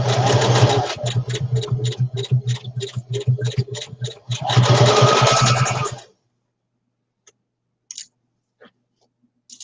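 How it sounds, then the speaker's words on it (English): A sewing machine runs in rapid bursts of stitching for about six seconds, pausing briefly, then stops, leaving a few faint clicks. "Is my sewing machine that loud?"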